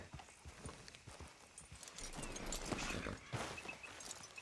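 Horse hooves clip-clop in Red Dead Redemption 2 while a horse is being hitched, an irregular run of soft steps that builds into a denser, louder flurry midway before easing off.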